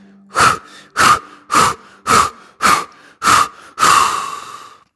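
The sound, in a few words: yoga breathing, inhaling through nose and exhaling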